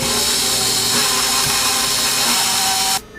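An electric hand mixer beats two eggs into a vanilla, chocolate chip and peanut butter oat bar batter, giving a steady, loud, close whirring drone that runs without a break and then stops abruptly near the end.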